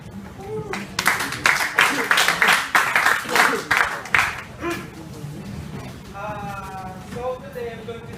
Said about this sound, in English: let us give a round of applause for Mr. Dominic Olimpo.